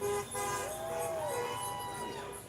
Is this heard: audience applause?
no